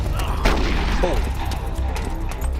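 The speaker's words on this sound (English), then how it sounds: "his bullets sound way more aggressive than mine" Enemy gunfire in Metal Gear Solid: The Twin Snakes, a sharp burst of shots near the start followed by scattered rattling fire over a steady low game rumble, with a voice talking briefly underneath.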